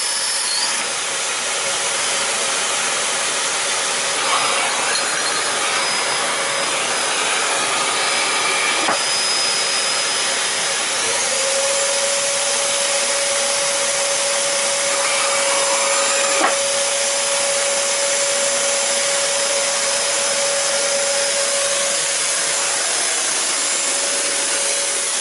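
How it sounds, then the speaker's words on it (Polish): A household vacuum cleaner runs on its lowest suction to degas epoxy resin, a loud, steady whooshing drone with a shifting high whine and occasional faint knocks, continuous throughout. "Załączę odkurzacz i zobaczcie,"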